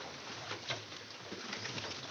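Pigeons coo softly and steadily in a breeding loft, with low murmuring calls under a constant background hiss and no voices.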